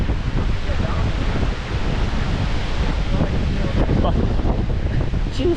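Strong wind buffets the microphone on a Scottish coastal walk toward a waterfall gorge, making a loud, continuous roaring rumble that may carry surf beneath it, heard close throughout.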